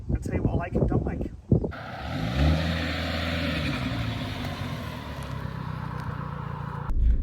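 A Mini JCW with a stage 1 tune, 228 horsepower and weighing 1,295 kilos, is driven with a steady mid-pitched engine drone and rising revs after a door thud, while someone talks over it.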